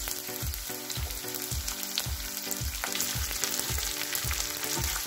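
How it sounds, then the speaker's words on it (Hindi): Chopped cabbage hisses in hot oil with cumin, a bright close sizzle layered with regular thumping stirs against the pan, about two per second. "अब हम इसमें पत्ता गोभी ऐड कर देंगे।"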